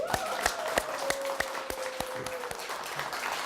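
An audience at a Korean talk concert claps for several seconds, sharp individual hand claps standing out over steady applause, with a faint tone running beneath.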